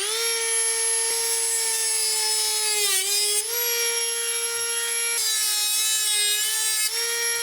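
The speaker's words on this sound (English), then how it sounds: "Let me get that Dremel and the abrasive wheel out and cut these back down." A Dremel with an abrasive wheel cuts through carbon fiber tubes during a guitar headstock repair, giving a steady high-pitched whine with shifting pitch as the wheel bites and eases, loud and close, with no talking.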